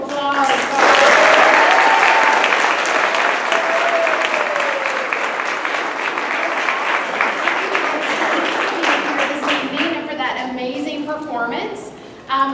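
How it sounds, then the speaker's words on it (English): A big round of applause from an audience at a school board event, loud sustained clapping with a voice speaking over it early on, fading toward the end. "let's have another big round of applause"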